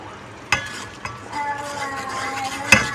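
Garlic-ginger paste and spice masala stirred and roasting in a pan, with sharp spoon-on-pan clinks near the start and end over a steady low sizzle.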